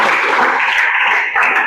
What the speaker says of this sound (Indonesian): Kita beri tepuk tangan dulu untuk kita.